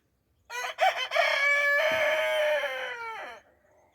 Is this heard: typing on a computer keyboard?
no